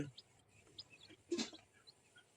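Faint, high chirps from newly hatched giant cotton quail chicks come in scattered bursts against a quiet background, with one brief louder rustle in the middle.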